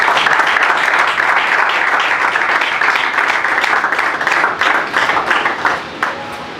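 Audience applause greets Papa Georges as he is called forward at his retirement farewell, with steady dense clapping throughout that thins slightly toward the end.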